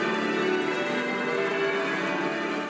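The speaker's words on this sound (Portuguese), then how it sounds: "os sinos badalaram por 2 minutos" Church bells ring for King Charles III's coronation, a dense wash of overlapping metallic tones sustained evenly and without talking.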